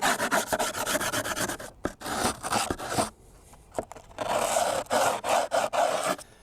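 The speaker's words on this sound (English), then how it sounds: "now we got to scrape this up" Grip tape on a skateboard deck is scraped along the edge in rough, gritty strokes, coming in bursts with a brief lull partway through, close and fairly loud.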